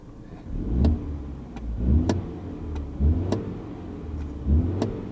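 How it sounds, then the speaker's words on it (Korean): A Mini Countryman JCW four-cylinder engine's exhaust note swells in four regular revving bursts over a steady idle rumble, close and moderately loud, with no talking. "전형적인 그 사기통 엔진의 배기음을 보여주고 있습니다"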